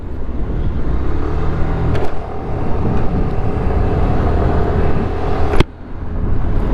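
2026 Suzuki Burgman Street scooter accelerating on a highway, a steady loud engine drone and wind roar throughout, with a sharp knock near the end.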